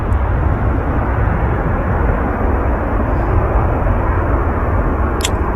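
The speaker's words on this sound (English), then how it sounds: "Quick rotation there on the Iceland Air 757. A lot of power behind that aircraft." An Icelandair Boeing 757 takes off at Manchester Airport under heavy power, its jet roar loud, dense and unbroken throughout.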